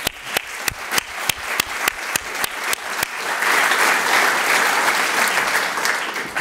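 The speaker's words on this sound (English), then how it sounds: "so they receive a round of applause because they are the ones who made this happen" A conference audience in Vienna applauds, first as a few distinct, evenly spaced loud claps, then swelling into dense, sustained clapping from the whole room.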